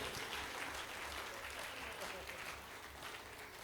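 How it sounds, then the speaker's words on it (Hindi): An audience at a live comedy show applauds, a faint, even patter of many hands that keeps on for the whole few seconds with no voices over it. "तालियां फिर कम बजा रहे हैं आप"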